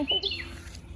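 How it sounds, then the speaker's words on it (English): A bird gives a short burst of high, quick chirps, fairly close and clear against a quiet outdoor background. "I hear a bird right now."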